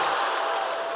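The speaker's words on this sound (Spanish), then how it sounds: "El público voladito aplaude." Audience applause at a live comedy show at the Viña del Mar International Song Festival, a steady dense wash of clapping from a large crowd for about a second, sustained without a break.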